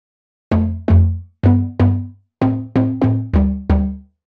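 Plucky distorted two-note synth stabs for melodic house, the filter cutoff opened further, nine short punchy hits in quick groups, loud and close with no voices.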